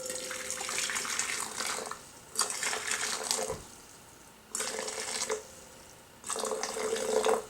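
Distilled water and aloe vera juice, 360 grams together, pour into a container in several bursts of splashing liquid, each lasting one to two seconds with short pauses between.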